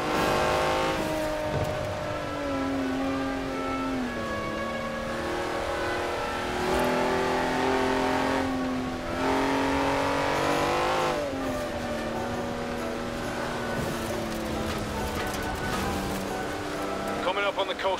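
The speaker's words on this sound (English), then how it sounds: "a 90-year-old racing car. It's gonna take some handling." Vintage 90-year-old racing car in Forza Horizon 4, engine droning steadily and shifting pitch as it accelerates along a coast road, with someone talking over it throughout.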